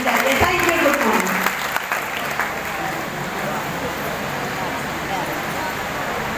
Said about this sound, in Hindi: एक जबरदस्त ताली होनी चाहिए।